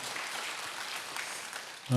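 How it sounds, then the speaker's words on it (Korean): A church congregation at a Friday prayer service claps in encouragement, a soft, diffuse wash of applause that holds steady before a sudden louder thump at the very end. "함께 격려의 박수 드리도록 하겠습니다."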